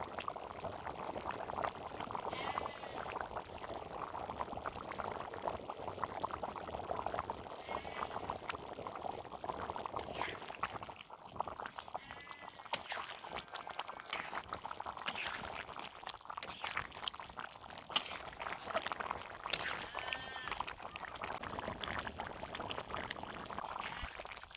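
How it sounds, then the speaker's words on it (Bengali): Water is poured into goose meat being cooked down in a pan, a steady liquid stream running for much of the span at moderate level, with faint kitchen clatter and some quieter stretches mid-way. "এবার মাংসে একটু জল দিয়ে দেবো।"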